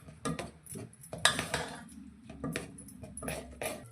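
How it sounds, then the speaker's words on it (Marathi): A spoon stirs flour in a pan for tambit ladoo, a sweet for Nag Panchami, making close, irregular metallic clinks and scrapes against the pan, with no talking. "आता असं पीठ घालून एकसारखं हलवायचं, कुठेही गाठ होऊन द्यायची नाही।"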